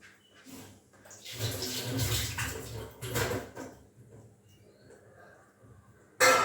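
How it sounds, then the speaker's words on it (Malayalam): Water poured into a grinder jar holding grated coconut, an uneven splashing gush in two close bursts that fades to quieter trickling, with a brief sharp clatter at the end. "കുറച്ച് വെള്ളം ഒഴിക്കുന്നുണ്ട്."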